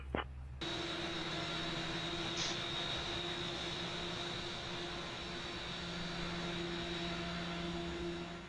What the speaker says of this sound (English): There we go, good engine start.